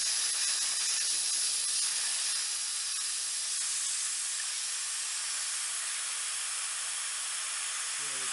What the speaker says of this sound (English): Turn the pressure on the compressor down.